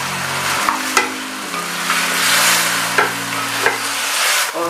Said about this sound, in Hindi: अब हम इसमें गोश्त डालेंगे और हम इसे 6 से 7 मिनट तक अच्छी तरह भून लेंगे